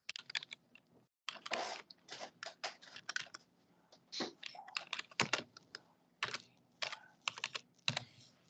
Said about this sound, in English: So just type whatever name you want.